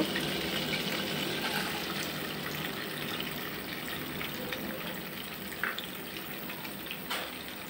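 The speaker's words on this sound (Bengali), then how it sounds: "পেঁয়াজগুলো আমি একটু ভালোভাবে ভেজে নেব।" Chopped onions fry in a pan with cardamom and cinnamon, a steady soft sizzle with faint crackles and a few small pops, no talking.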